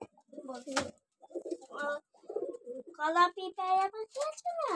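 Several pigeons coo nearby in soft, throaty bursts, some rolling and repeated, with short pauses between calls and no talking.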